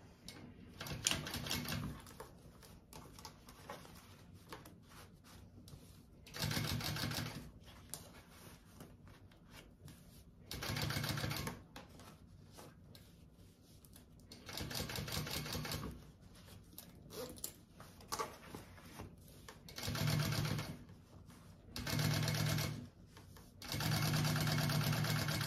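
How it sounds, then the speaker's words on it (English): A sewing machine topstitches along a zipper in repeated bursts of rapid mechanical stitching, each run lasting a couple of seconds, separated by quieter pauses with faint handling noise. "And then I'm gonna top stitch along my zipper."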